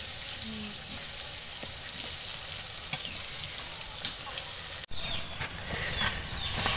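Sliced pointed gourd (potol) sizzles steadily in hot oil in a home kitchen. A constant bright frying hiss carries a few soft clicks and spatters, and there is one brief sharp dropout partway through. No one speaks.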